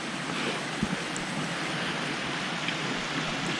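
Light drizzle falls in thick mist at a campsite by the Cascades waterfall in Wadbilliga National Park, a steady, even hiss of rain and moving air with a faint knock or two near the start.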